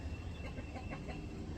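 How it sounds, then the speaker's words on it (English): Chickens cluck softly on a muddy farm just after a hatch, a few low broken clucks heard faintly over a steady background rumble. "These chickens finally got off that nest, and most all those hatched."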